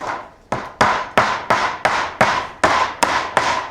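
Sharp hammer blows striking nails into wood, about ten evenly spaced hits in a steady rhythm, close and loud with no talking.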